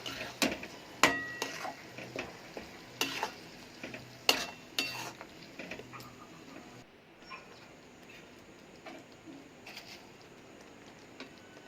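Chicken curry is stirred and sautéed in a pan, with a run of loud, irregular metal scrapes and clanks of a spoon against the pan over a faint sizzle, then quieter stirring.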